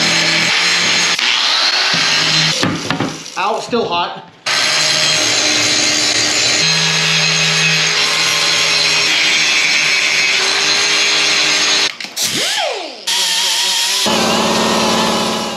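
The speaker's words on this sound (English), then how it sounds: "we just gotta get the grinder out and see how shitty my welds really are" An angle grinder fitted with a grinding disc works over welds on a golf cart roof, a loud sustained whine with brief drops and pitch dips as it spins down and restarts, and a voice speaks briefly.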